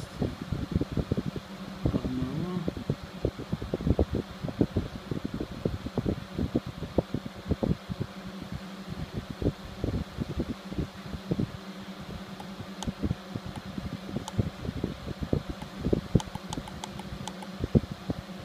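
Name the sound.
homemade egg incubator fan running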